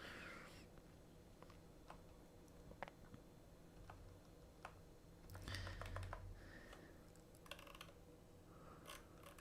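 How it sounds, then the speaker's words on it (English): Computer keyboard arrow keys are pressed in scattered, sharp clicks spaced irregularly, some in quick clusters, close and quiet against a faint background hum with no talking. "you can do this with the arrow keys."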